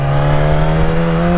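A motorcycle pulls away under clutch control, its engine holding a steady, close, loud droning note that rises slightly as it moves off.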